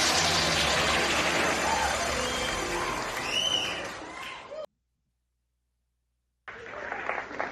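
Studio audience applause during a comic-book podcast, a dense, loud wash of clapping and crowd noise for about four seconds that fades, cuts to silence, then resumes briefly.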